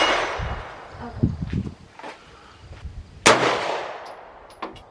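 AR-15 or AK-47 rifle fire at an outdoor shooting range: a sharp, loud report near the middle stands out, with a few smaller pops and bangs earlier and a faint snap near the end.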